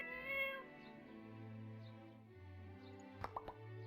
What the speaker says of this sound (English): It's a stray cat, but it's definitely been eating a lot.